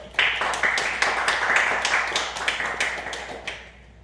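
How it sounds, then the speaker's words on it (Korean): A church congregation applauds together in worship, a dense run of steady clapping for about three seconds that tapers off near the end. "박수로 하나님께 영광 드리겠습니다"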